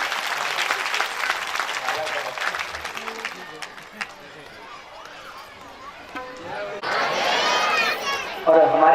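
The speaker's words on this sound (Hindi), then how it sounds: "इनका जोरदार तालियों से" Loud applause from an audience at a Bhagwat Katha religious gathering, a dense burst of clapping at the start that fades into a speaking voice, then a second strong burst near the end.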